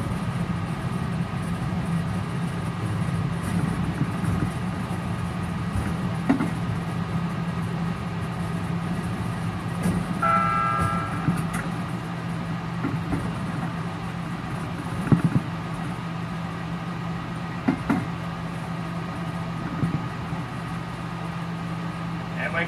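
A low steady rumble of a miniature train rolling along its track at the Tokyo Railway Museum, with faint clicks and squeaks, steady throughout and fairly quiet.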